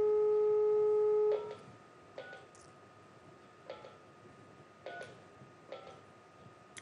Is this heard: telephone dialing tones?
yes